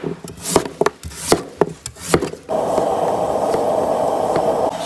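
A kitchen knife chops a radish into chunks on a wooden board for a clay-pot goat mutton stew: several sharp, uneven knocks close by, then a steady rushing hiss takes over.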